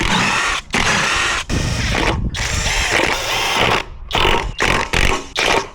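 A 20V brushless cordless impact gun hammering on small lug nuts, loud and close, in long rattling bursts followed by several short sharp ones with brief gaps between.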